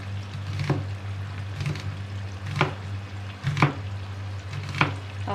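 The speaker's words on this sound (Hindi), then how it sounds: "और साथ ही हम काट लेते हैं प्याज" A knife chopping onions on a cutting board in a home kitchen while cooking mutton with bitter gourd, with about five spaced, distinct chops over a steady low hum of background noise.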